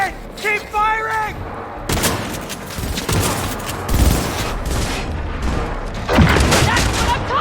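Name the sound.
gunfire in video game Cyberpunk 2077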